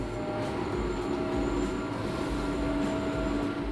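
A train in the video game Train Fever rumbles past in one continuous, dense roar with a steady rolling low end and faint tonal whines, unbroken throughout.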